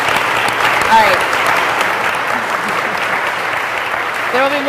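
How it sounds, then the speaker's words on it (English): A seated audience at a Pando Monthly talk claps steadily, a dense, even wash of applause with a few whoops and voices mixed in. "There will be more time for applause."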